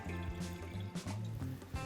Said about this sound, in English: Pour the wine in the glass.